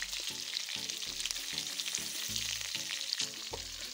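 Pork browning in a hot pan with onion being fried alongside it for a Ugandan kikalayi, a steady close sizzle and hiss with soft stirring scrapes, under faint background tones.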